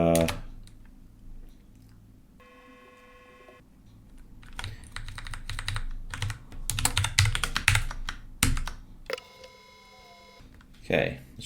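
Keys pressed on a computer keyboard while entering Control C in a coding environment, scattered clicks and clattering bursts mixed with electronic beeps and tones, with a person talking through much of it.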